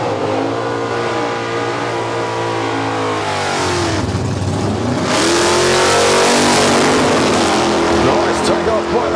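A racing Torana drag car launches at a drag strip, its engine roaring loudly and rising in pitch as it accelerates away, with a commentator talking over the sound.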